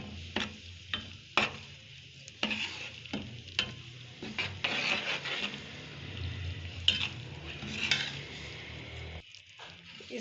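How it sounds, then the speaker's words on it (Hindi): Flaxseed being stirred into a hot pan a little at a time, scraping spoon strokes and soft frying sizzle in irregular bursts, fairly quiet and close, with a brief pause near the end. "अब हम इसमें अलसी डालेंगे थोड़ी थोड़ी करके और मिक्स करते जाएंगे"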